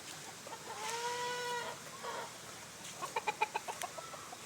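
Chickens cluck and squawk nearby, a drawn-out call followed by a quick series of short, sharp clucks, with faint outdoor background noise.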